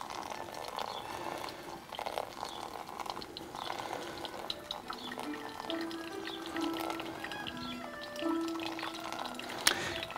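Hot water poured slowly from a kettle onto coffee grounds during manual pour-over brewing, a faint, steady trickle and gurgle lasting throughout at low volume.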